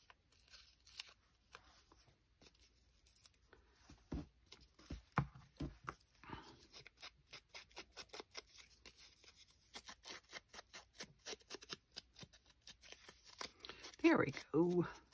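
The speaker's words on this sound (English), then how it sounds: "I'm going to trim that right off of there." Scissors trimming excess background paper off a book page during a paper-craft project: a quiet run of crisp, rapid snips and paper rustles close by, with a brief voice near the end.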